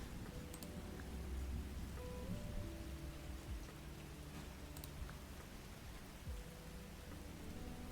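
Steady rain ambience plays as a soft, continuous patter with faint low rumbles beneath, quiet and unbroken with no voices.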